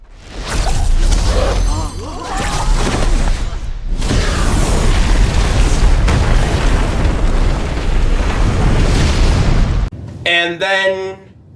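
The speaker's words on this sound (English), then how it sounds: "the opening shot of the trailer is Bowser destroying an ice kingdom with a bunch of penguins" Movie trailer explosion as Bowser destroys an ice kingdom full of penguins: a loud, sustained booming roar with rumbling debris for about ten seconds, ending in a short burst of bright effects.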